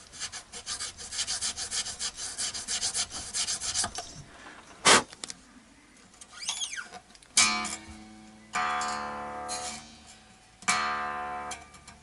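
Fret slots are filed into the neck of an Epiphone Les Paul during a refret, with a run of rapid rasping strokes followed by separate short bursts of scraping and pauses between them.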